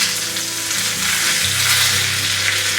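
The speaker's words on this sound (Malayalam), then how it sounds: "കുറച്ച് എണ്ണ ഒഴിച്ചതിന് ശേഷം എണ്ണ ചൂടാകുമ്പോൾ കുറച്ച് കടുക് ഇട്ട് കൊടുക്കുക." Mustard seeds, two dried chillies and curry leaves hit hot oil as a tempering for Kerala beetroot pachadi, giving a loud, close, continuous crackling sizzle that stays even throughout, with no voices.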